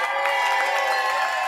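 An applause sound effect: a crowd applauds and cheers in a dense, steady wash of clapping and voices, fairly loud and continuous throughout.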